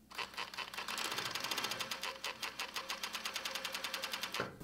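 A flatlock sewing machine stitches T-shirt fabric using two needles, a steady, fast mechanical rattle of repeated needle strokes running for several seconds before stopping.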